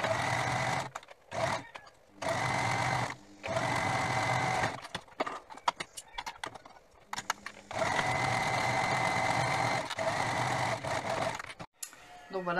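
A sewing machine stitching seams on a homemade washcloth: steady, fast mechanical whirring in several long runs broken by short pauses, close up, with someone speaking softly in the gaps.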